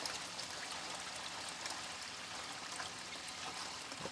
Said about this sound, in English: get a little water up in there